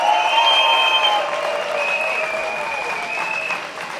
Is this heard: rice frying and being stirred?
no